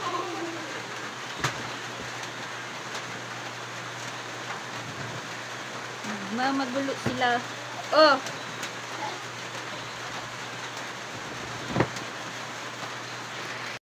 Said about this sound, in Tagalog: At medyo tumilan na po yung ulan.